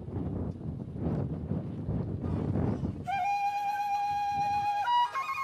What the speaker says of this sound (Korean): 세찬 바람이 불지만 여행자들은 여전히 즐겁다.